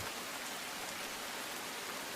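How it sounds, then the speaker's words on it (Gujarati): Steady, dense rainfall during a sudden weather change in Dahegam, Gujarat: an even, close wash of falling drops with no pauses and no voices. "વરસાદ વરસી રહ્યો છે"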